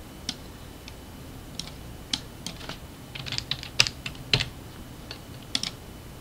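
Fingers tapping a computer keyboard in short irregular bursts of crisp clicks, close and clear over a quiet room, no talking.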